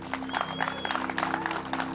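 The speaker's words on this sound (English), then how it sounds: "Clap your hands for Calvin Heimburg." An outdoor crowd at a disc golf tournament, the PCS Open, applauds player Calvin Heimburg with a steady patter of clapping lasting a couple of seconds, moderately near.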